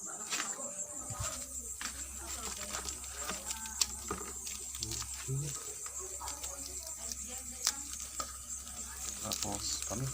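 Adobong kangkong, water spinach, sizzles in a pan as it is stirred, a steady close frying hiss broken by scraping stir strokes and sharp ticks, with a voice speaking now and then.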